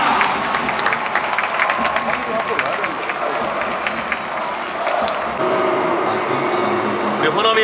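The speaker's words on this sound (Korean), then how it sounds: "박수를 부탁드리겠습니다" Stadium crowd at an FC Seoul versus Ulsan Hyundai K League 1 football match applauding and cheering as a substitute comes on, a dense steady roar of clapping with voices mixed through it.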